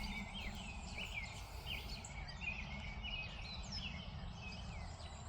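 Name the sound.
birds singing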